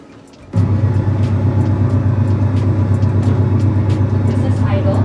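Aircraft engine idling in a flight simulator game, a steady loud low droning hum that starts abruptly after half a second and holds constant, with a car sitting on the runway.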